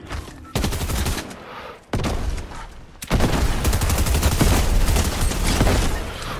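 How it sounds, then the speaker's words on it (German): Dense gunfire in a Fortnite match, sharp bursts of automatic shots starting after a moment of quiet and turning into a loud, continuous barrage from the second half onward, with no talking over it. "Ey, die schießen schon auf uns."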